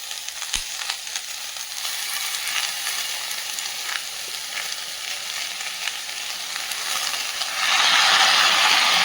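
Onions and pasalai keerai spinach sautéing in a pan, a steady close sizzle with occasional stirring clicks that swells louder and hissier near the end as the wet greens hit the hot oil.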